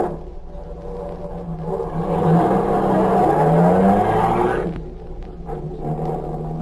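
A car engine as a sound effect in an old radio drama, a low rumbling motor that swells as the car approaches, peaks loudly, then settles back into a steady idle.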